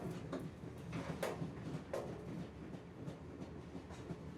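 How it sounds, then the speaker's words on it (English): Low rumble and rhythmic clickety-clack of a train's wheels rolling along the rails, a soft, steady background bed with faint periodic clicks and no voices. "harmonizing with the low rumble of the train's wheels"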